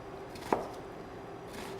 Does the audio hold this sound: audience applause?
no